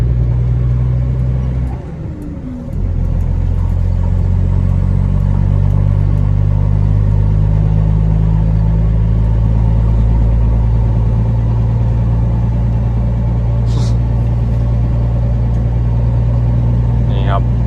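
A truck engine idles and runs steadily while the truck is taken to dump soil. It makes a loud, continuous low rumble that is close and unbroken, apart from a brief dip early on.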